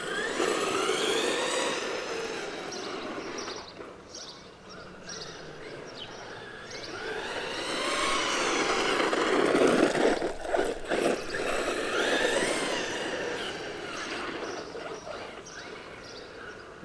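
A Traxxas Hoss RC truck on a 3S battery is driven around, its electric motor whining and surging in bursts with rising and falling pitch, fairly close, alongside faint bird chirps outdoors.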